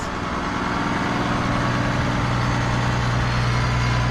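A New Holland TM125 tractor engine runs steadily at a constant loud drone with a low rumble, close by and unbroken, with no talking.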